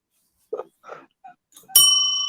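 A few soft knocks and rustles lead into one sharp metallic bell strike that rings on with a clear, sustained, slowly fading tone, close and loud.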